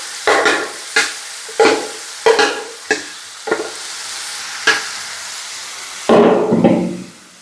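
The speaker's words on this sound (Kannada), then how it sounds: "ಸ್ವಲ್ಪ ಲೋ ಫ್ಲೇಮಲ್ಲಿ ಕಾಯಿಸ್ಕೊಳ್ಬೇಕು ಈಗ ಇದು ಸ್ವಲ್ಪ ಕುದೀತಾ ಉಂಟು" Mashed carrot boiled in milk cooks in ghee over a low flame, with a spoon repeatedly scraping and stirring in sharp strokes against the pan over a steady sizzle, close and loud, ending in a longer burst of stirring.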